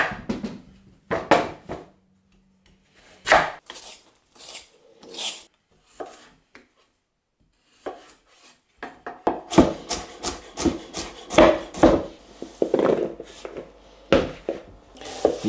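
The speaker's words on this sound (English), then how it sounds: "So the first job is to get these vegetables peeled and then diced." Peeling and dicing swede and other vegetables for Cornish pasties, a series of close scraping rasps and knife strokes on a board, sparse at first then denser and more rhythmic, with no talking.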